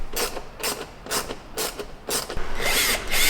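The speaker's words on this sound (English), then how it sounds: "I've gotten a T20 torque bit mounted on my driver over here" Cordless driver fitted with a T20 Torx bit backing screws out of a 2018 Ford F-150 during an LED conversion, giving five close, loud whirring bursts with short pauses between them, the last one running longer as a screw spins free.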